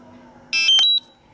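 A short electronic startup chime of a few quick rising beeps from a DJI Mavic 2 Enterprise Dual drone remote controller, clear and close over a faint background hum.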